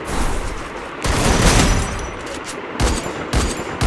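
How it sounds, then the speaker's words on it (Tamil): Gunfire in a battle royale video game comes as loud bursts of rapid shots in several volleys, separated by brief pauses. "யாரோ ஃபயர் பண்ணாங்க."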